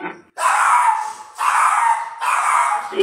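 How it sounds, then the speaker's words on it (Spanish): Dogs let out three long, loud howling wails in quick succession, each rising and holding before breaking off, close by and with no talking. "Perros"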